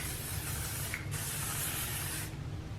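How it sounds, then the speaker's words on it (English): Oribe hairspray misted onto hair in a steady close hiss lasting over two seconds with a brief pause, quiet and alone without speech. "I'm gonna do some of the Orbe hairspray."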